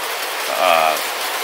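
Heavy rain pours steadily throughout, a dense broadband hiss with a brief swell near the middle, while a faint voice or tonal sound surfaces under the downpour.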